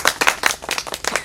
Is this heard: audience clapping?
yes